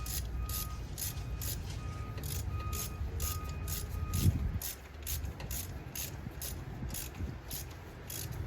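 A ratchet turns a spark plug as it threads in, giving a steady run of close, quick pawl clicks in even rhythm, briefly interrupted by a thud midway before the clicking resumes.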